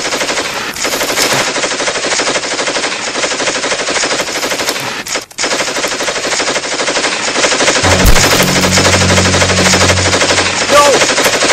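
Sustained machine gun fire rattles loud and continuous for the whole stretch, with a brief gap midway and a heavier low rumble joining near the end, in a wartime film scene.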